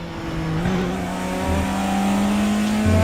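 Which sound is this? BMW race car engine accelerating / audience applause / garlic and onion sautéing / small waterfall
BMW race car engine accelerating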